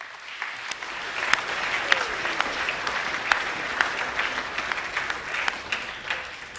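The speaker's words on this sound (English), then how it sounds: "Can we give them a round of applause too, please?" Audience applause at a school academic awards assembly, a thin scattered clapping that stays fairly steady at moderate distance with a few sharper individual claps standing out, and no talk over it.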